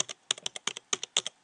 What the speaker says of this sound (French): donc quand on tape sur le clavier braille